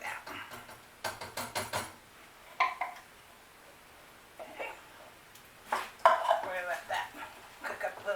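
Canned chili with beans is scraped and dumped into a pan of browned ground beef, giving clusters of metallic clinks, scrapes and knocks of can and utensil against the pan, with quiet gaps between bursts.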